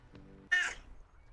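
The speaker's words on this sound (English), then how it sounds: "You like meowing? You like making noise?" A cat in the video game Disco Elysium lets out a single short, fairly faint meow after a soft preceding murmur, heard alone.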